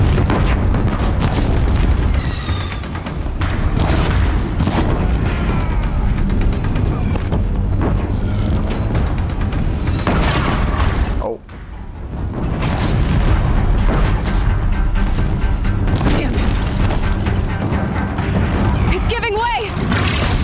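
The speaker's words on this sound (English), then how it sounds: "If the Deathbringers keep firing, this bridge will go." Deathbringer war machines in Horizon Zero Dawn pound a bridge with explosive fire, heavy booms rolling in nearly continuously and loudly, layered under game voices and a dense battle din.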